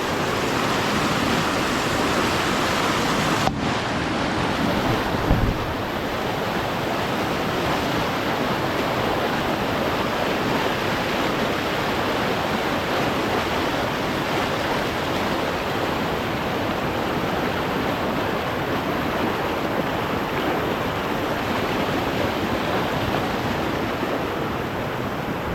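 Floodwater rushing across a garden path in Laos after rain, with strong wind, makes a loud, steady broadband roar that continues unbroken for the whole stretch with no voices.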